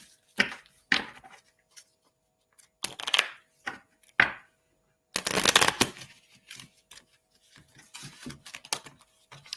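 Tarot cards are shuffled by hand in quick riffling bursts. The rapid, dry flutters come in several separate runs with short pauses between them, and a longer, louder riffle falls midway. The sound is close and clear, with no talk.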